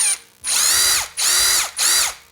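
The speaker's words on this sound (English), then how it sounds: "if I pull the trigger on my impact," An impact driver fitted with a drill-bit accessory spins up in three separate bursts, each a loud, high mechanical whir that holds briefly and then cuts off, close by with no talking.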